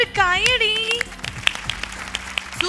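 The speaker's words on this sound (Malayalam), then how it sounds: "എല്ലാരും നല്ലൊരു കൈയടി" Audience applause on a Malayalam television show follows a child's performance, a burst of scattered clapping that runs for about a second and a half after a short voice at the start.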